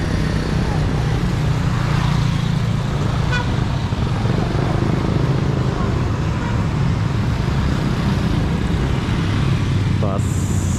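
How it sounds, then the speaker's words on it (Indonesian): Street traffic in Tanjung Balai, Indonesia, as a bus passes, with a steady low engine rumble, a brief horn toot, and voices talking nearby. "Bus."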